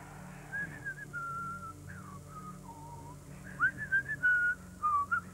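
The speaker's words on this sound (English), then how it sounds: "Do you have to whistle?" Someone whistles a wandering tune in short melodic phrases, close and clear, over a low hum of room noise.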